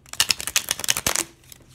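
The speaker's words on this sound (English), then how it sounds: "So when you're shuffling these, it's easier to do that regular playing card shuffle" A deck of Radiant Rider-Waite tarot cards in a tin gets a riffle shuffle like ordinary playing cards: a rapid close flutter of card edges for over a second, then a soft settle into near quiet.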